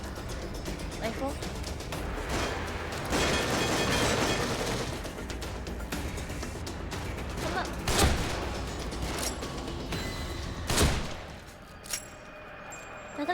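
Rifle gunfire in the horror video game The Evil Within, a dense stretch of shots with two sharp, louder blasts standing out, mixed with game noise and people talking over it.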